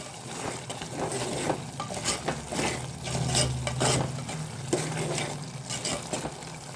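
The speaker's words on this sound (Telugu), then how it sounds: "అన్నీ కలిసేలా ఒకసారి మిక్స్ చేసుకుందాం ఫ్రెండ్స్" A spoon stirs a tomato and broad bean curry with coriander powder in a pan, giving repeated scraping strokes over a soft, steady sizzle, close and fairly quiet.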